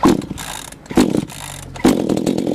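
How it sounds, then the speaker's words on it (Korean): A Maruyama 3100S gas chainsaw starts and runs, giving loud close bursts of engine revving that surge and drop several times, with no speech over it. "엔진톱은 지금 마루야마 3100S라는 모델을 준비했고요"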